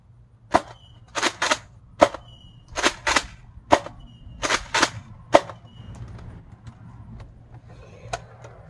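A Nerf Fortnite tactical shotgun fires foam darts in a series of sharp close snaps, some single and some in quick pairs, about a dozen over several seconds, followed by quieter handling noise.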